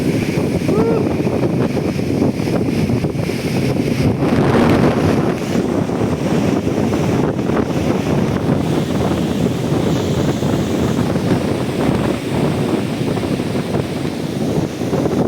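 Typhoon Pepito's Signal No. 4 winds buffet a microphone on the coast at Dinahican, Infanta, Quezon. A constant, loud roar of gusting wind with churning surf mixes in and never lets up.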